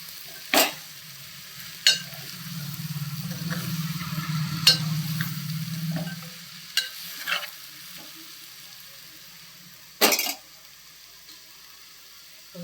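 Chicken frying Andhra style with garam masala, a soft sizzle under a spoon stirring the pan, with several sharp clinks and scrapes at irregular intervals and a low bubbling rumble in the middle.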